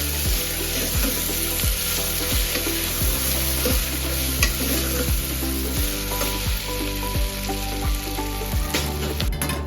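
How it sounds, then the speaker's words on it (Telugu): Ginger garlic paste frying in a pan for a palak mutton curry, a steady loud sizzle with regular scraping stirs of a spoon through it, close and continuous with no talk. "అల్లం వెల్లిపాయ మంచిగా ఫ్రై అయిపోవాలి."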